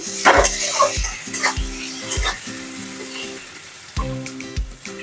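Slit green chilies hit hot oil in a pan with turmeric, crackling and sizzling loudly up close while a metal spoon clinks and scrapes against the pan in irregular strokes.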